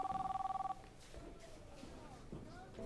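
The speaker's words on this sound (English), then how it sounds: "Answer the phone," In a scene from the 1998 film The Big Lebowski, a telephone rings in short, rapid, trilling bursts for under a second. Voices talk over a noisy background afterward.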